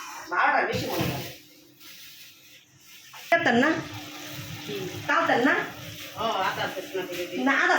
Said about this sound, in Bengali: এই যে মাছগুলো বাইজা নিতেছি